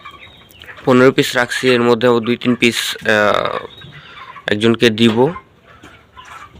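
Chickens on a poultry farm give loud, close, repeated clucking calls in a few bursts, with someone talking between them.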